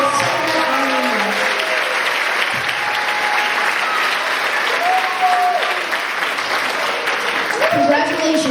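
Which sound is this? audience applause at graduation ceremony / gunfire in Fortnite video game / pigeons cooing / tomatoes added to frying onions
audience applause at graduation ceremony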